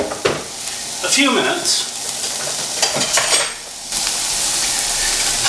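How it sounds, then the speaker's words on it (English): Onion sautés in a knob of butter in a pan, a steady close sizzle with stirring scrapes and utensil clatter, and a voice speaks briefly over it. "into our pan, we're going to add butter, knob of butter, and our onion. And we'll saute this for"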